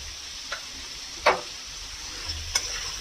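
Radish greens with turmeric and salt are stirred in a pan over a steady low sizzle, with a few distinct scraping clicks of the spoon against the metal, one louder stroke in the middle.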